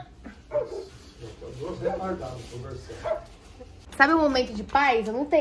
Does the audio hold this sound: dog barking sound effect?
yes